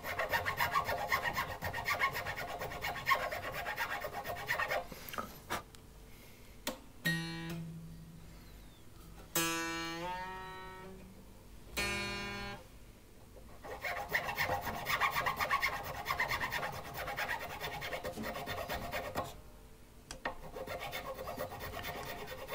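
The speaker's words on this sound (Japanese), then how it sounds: "レットの高さに対して、ほんのわずか高くなるまで、ナットの溝を切り込んでいきます。" Grooves are filed into a new guitar nut down toward fret height, the file rasping in close, steady strokes. Bursts of rubbing alternate with brief pauses and lighter scrapes.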